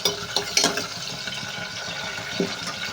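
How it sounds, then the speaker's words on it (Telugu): Green chillies frying in a pan for a cucumber roti pachadi, a steady close sizzle with a few brief clinks and stirring scrapes on top. "ఇప్పుడు పచ్చిమిరపకాయలు అనేది వేగిపోతున్నాయి కదండి"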